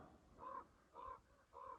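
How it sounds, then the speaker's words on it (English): A crow caws three times from up high above an ancient Puebloan cemetery and petroglyph site in the desert, evenly spaced harsh calls, moderately distant and alone with no talk. "It's fitting that there's a crow up there making noise."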